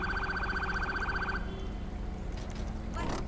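Ambulance siren in the GTA LSPDFR police game, a loud cycling electronic wail that changes pattern partway through, with a brief burst of other game noise near the end.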